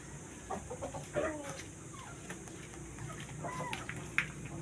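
Several chickens cluck and murmur close by in an irregular stream, with a faint voice in the background and a sharper squawk near the end.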